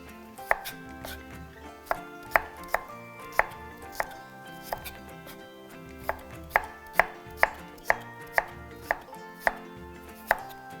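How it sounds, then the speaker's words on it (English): Knife slicing food on a chopping board during a summer barbecue cookery demo, a steady run of sharp, close taps against the board that sounds alone with no talk. "So now just cut our little slices here and we'll have these ready."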